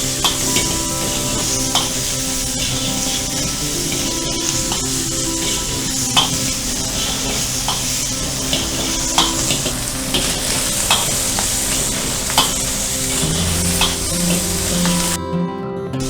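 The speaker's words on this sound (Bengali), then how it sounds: "এবার দিয়ে আমাদের তেলটা গরম করে এটাকে এবার ফ্রাই করে নিই" Mixed fried rice sizzling in a little hot oil while being stirred in a pan, a steady close crackle with occasional scraping clinks throughout.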